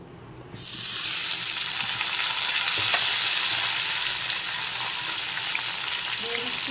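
Tomato pieces dropped into hot oil with dry red chilli and nigella seeds burst into a loud, sudden sizzle that then holds as a steady close frying hiss with faint stirring.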